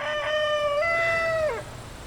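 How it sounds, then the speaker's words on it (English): A single loud rooster crow rings out nearby, a long rising-and-held call that trails off, with no voices around it. "very vocal rooster"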